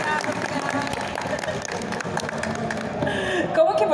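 A crowd at the Anime Friends 2025 arena applauds the documentary director, a steady wash of clapping with some voices mixed in, loud and close.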